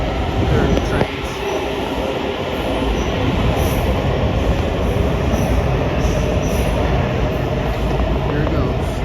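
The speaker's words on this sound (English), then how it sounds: "We'll watch this train leave." A metro train leaving Ronald Reagan Washington National Airport station rumbles and clatters along the rails, with high wheel squeal streaking over the steady, loud rolling noise.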